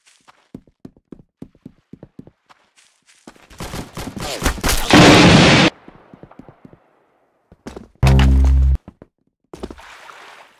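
Bursts of video game gunfire, a sustained loud volley followed later by another sharp burst, set among scattered clicks and thuds with brief quiet gaps between.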